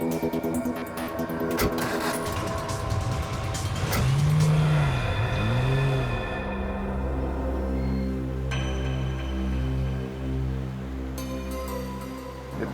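A car driven fast in a chase scene, engine revving up and down in sweeping pitch changes, loud and close with steady road roar and other music-like tones over it.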